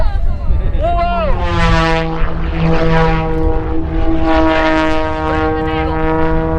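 A propeller aerobatic airplane makes a low pass over the ground at an air show, its engine roaring loud and steady with the pitch sliding as it goes by, while an announcer talks over it.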